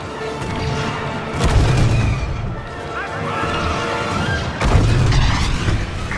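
Weapon fire pounding a targeting dish in the video game Star Wars Battlefront II, two deep booming blasts over a constant roar of battle noise, loud and close.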